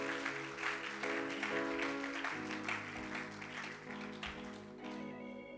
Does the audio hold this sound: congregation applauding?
yes